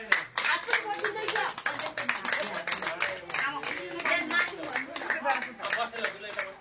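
Guests clap rhythmically for the groom during a Nepali wedding ceremony, a sharp, brisk run of close hand claps with chatter and voices mixed in underneath.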